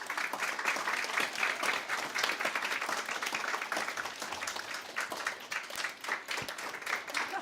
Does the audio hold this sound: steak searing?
no